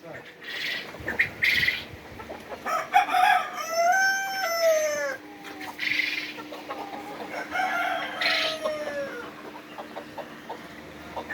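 Five-month-old Fayoumi hens, some laying, cluck and chatter close by in a busy flock, with drawn-out squawks and a rooster-like crow rising above the noise, and faint voices in the background.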